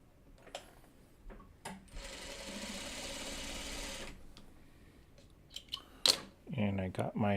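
A sewing machine stitches quilt block pieces in a steady, fast whirring run of about three seconds, preceded and followed by soft handling clicks and fabric rustles, with a person talking close by at the end.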